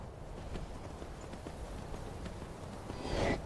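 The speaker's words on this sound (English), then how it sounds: "And now I got to ride the horse to the area where we get the" Quiet clip-clop of a horse's hooves galloping in Skyrim, a steady rapid beat under low ambient background, with a brief swell near the end.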